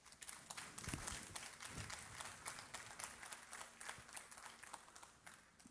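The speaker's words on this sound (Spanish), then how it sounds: "Denle un aplauso al Señor" A church congregation claps for the Lord during a Spanish-language service, a faint, busy patter of many hands that fades slightly toward the end.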